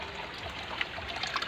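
Water running and splashing outdoors in a Bohol province yard during bathing and laundry, a faint steady trickle with a few brighter drips, no talk.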